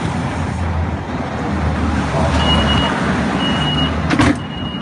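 A truck approaches a bollard in playback, a steady low engine and road rumble with thin intermittent electronic beeps and a brief clatter toward the end, no talk over it.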